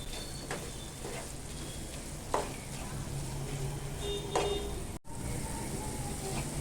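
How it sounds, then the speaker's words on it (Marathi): A modak filling of jaggery, grated coconut and cardamom is stirred continuously in a pan as it dries, giving a soft sizzle with occasional scraping strokes of the spoon, close by and without talk. "थोडस सुकेपर्यंत ना सतत परतत राहायचं आहे"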